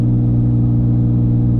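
Porsche 996 fitted with a raspy race exhaust holding a steady, loud, close engine drone with a deep low hum and no talking.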